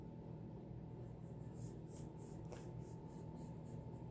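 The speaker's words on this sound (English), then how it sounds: "you want to draw a little diagonal line" A pen or marker draws a diagonal line corner to corner across a quilting fabric square, a faint soft scratching stroke under quiet room hum.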